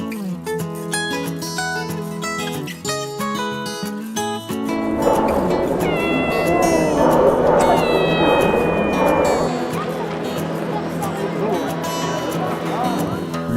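A cat at a French cat show at the Salon de l'Agriculture, heard as meowing and caterwauling under loud music, with talk and hall bustle filling the background.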